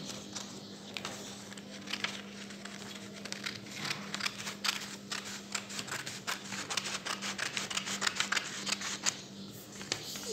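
Scissors cut through a paper pattern for a sewing reduction ruler, giving a run of close, crisp snips and crinkly rustles that pick up pace toward the end over a low steady hum.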